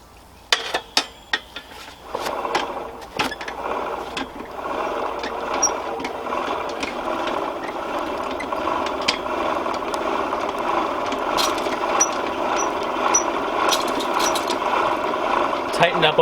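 A blacksmith's forge, upgraded with retightened and stainless steel bolts, starts with a few sharp metallic clanks before a steady, dense mechanical roar and rattle take over and run on continuously.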